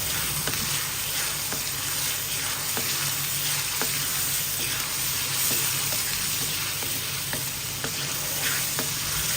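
Minced keema frying with garlic ginger paste in a karahi, a steady, close sizzle with stirring and scraping taps at an even pace throughout, and no voices.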